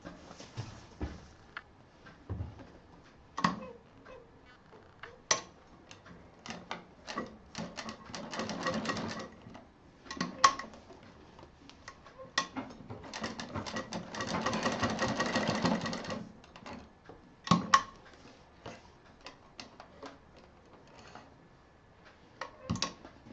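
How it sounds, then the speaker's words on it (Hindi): A sewing machine sews both ends of a 60-inch fabric belt for a small tote bag, with short clicking bursts and one longer whirring run midway, close and fairly quiet, amid handling taps. "बेल्ट 60 इंच की है हमारी और इसको दोनों सिरों को हम बराबर से सिल देंगे।"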